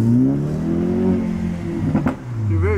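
A Jaguar F-Type engine pulls hard under acceleration, a loud steady mid-pitched drone that dips briefly near the two-second mark with a sharp burst, then swells again into a rising rev.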